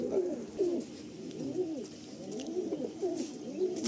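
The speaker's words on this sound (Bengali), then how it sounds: "খুব হাই ফ্লাইং পায়রা" High-flying Giribaz pigeons coo in a home loft, a repeated rolling, throaty coo pattern from several birds, close and clear over quiet surroundings.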